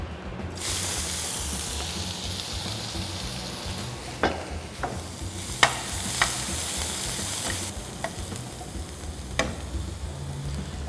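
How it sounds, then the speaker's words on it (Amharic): Oil sizzles steadily in a pan of frying potatoes and onions, broken by a few sharp clicks of a utensil stirring and scraping. "በዚህ መንገድ ድንቹ ይጠበሳል"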